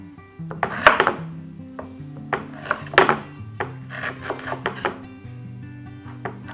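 A knife slices peeled fresh ginger into thin slices. Close, irregular cutting taps and scrapes land in quick clusters over a faint steady tonal background.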